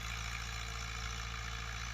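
A Fiat 640 tractor engine runs steadily in a Pakistani field being prepared for cotton, giving a continuous low, even droning hum with no breaks and no talking.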